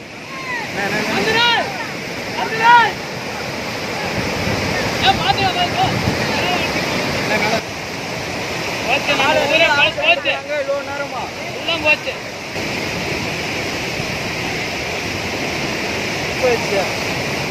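Floodwater from a breached lake bank rushing into a village, a steady broad roar of flowing water heard throughout beneath a voice speaking over it.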